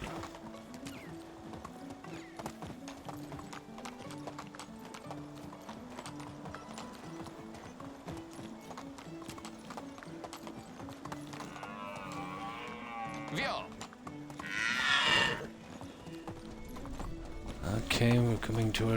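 In the medieval village game Medieval Dynasty, a horse trots with an even clip-clop that runs the whole time beneath a tonal background, with livestock-like calls and brief swells of other game noise near the end.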